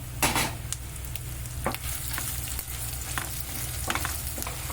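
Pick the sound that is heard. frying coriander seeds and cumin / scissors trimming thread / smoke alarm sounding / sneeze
frying coriander seeds and cumin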